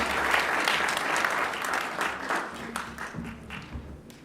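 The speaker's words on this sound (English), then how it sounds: "Let's go ahead and give these new members a round of applause as they return to their seats." A congregation at a church service applauds new members returning to their seats: full, dense clapping that starts strong, then thins and tapers as scattered individual claps remain near the end.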